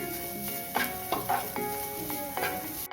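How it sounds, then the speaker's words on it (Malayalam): Quiet steady sizzle of grated coconut lightly sautéing in ghee in a pan, with a few scraping stirs of a spoon, no voices. "ഇനി ഇത് ഒരുപാട് ബ്രൗൺ നിറമാകണ്ട, ഒന്ന് ചെറുതായിട്ടൊന്ന് വഴറ്റിയെടുക്കാം."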